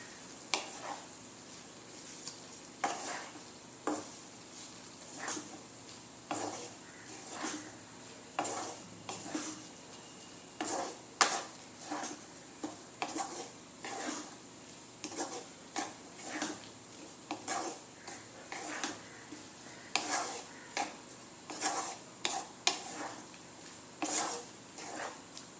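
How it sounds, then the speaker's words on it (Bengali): Fenugreek leaves are stirred into a pan curry of methi matar malai, with soft periodic scraping strokes of a spoon against the pan over a faint sizzle and no voices. "মেথি শাকটা আমি ভালো মতো এর সাথে মিশিয়ে নিয়েছি।"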